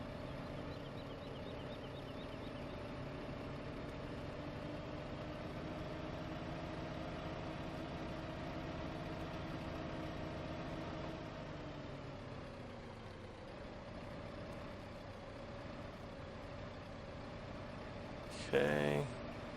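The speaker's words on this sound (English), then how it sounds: "Doing farming chores in my little tractor." Steady low engine drone of a small tractor idling in Farming Simulator 15, a constant hum with a slight dip in pitch partway through and a brief sharp noise near the end.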